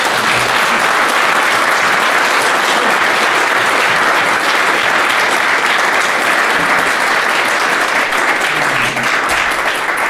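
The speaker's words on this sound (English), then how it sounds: "I'd like to give a round of applause to John" Loud, dense applause from a meetup audience at a Philly tech demo day fills the room for about ten seconds, a steady roar of clapping with no speech over it.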